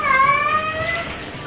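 A cat meows during its grooming bath, giving one drawn-out, falling meow that is loud and close at the start and fades away, with no talk.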